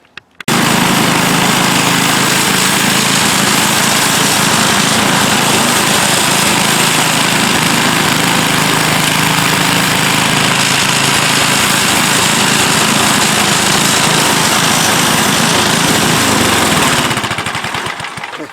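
A small Toro 7/24 snow blower engine runs steadily and loudly at close range for nearly the whole stretch, a dense, buzzing, rattly drone that starts abruptly and tapers off at the end, with no talking.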